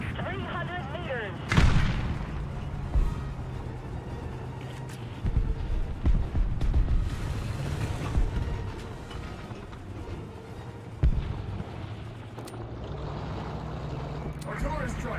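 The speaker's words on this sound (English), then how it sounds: "Artillery strike in this sector." Artillery strike explosions in the Ace Combat flight game land as heavy bursts, one loud impact early and another later, over a rumbling background and ongoing voice chatter.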